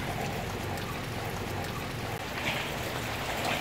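Steady rain pours down outdoors, a dense, even hiss of falling drops that holds at a constant moderate level throughout, with no voices over it.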